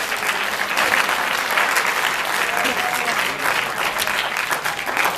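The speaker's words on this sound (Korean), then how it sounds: "여러분 다 똑같이 한번 박수를 쳐봐요" A large lecture audience claps together in a dense, steady wash of applause that holds at full strength for about five seconds.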